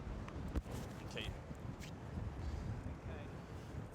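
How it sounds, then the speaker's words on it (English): Wind buffets the microphone outdoors in gusty, rumbling low roars, with people talking nearby and occasional rustling. "just keep to the centre because it's very windy here"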